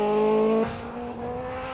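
Rally car starting a mountain stage, a 1993 event, with a loud steady engine tone that drops sharply after about half a second and settles into a lower sustained drone.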